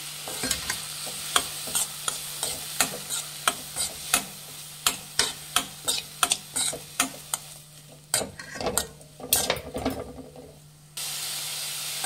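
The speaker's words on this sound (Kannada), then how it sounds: "ಈಗ ಚೆನ್ನಾಗಿ ಫ್ರೈ ಮಾಡಬೇಕು" Grated coconut and coriander leaves frying in a pan, with a steady run of rhythmic scraping stirs over a soft, continuous sizzle, close and clear with no talk.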